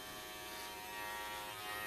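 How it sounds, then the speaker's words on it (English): A BaBylissPro 673 cordless lithium-ion hair clipper running in a salon: a steady, even electric buzz with a bright whine, held at a constant level for about two seconds with no talk over it. "This is the 673 lithium ion, cordless, free floating lever"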